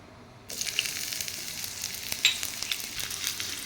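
Onion and garlic drop into hot ghee and break into a bright, steady sizzle of frying that continues to the end, with a few small stirring clicks and no talking.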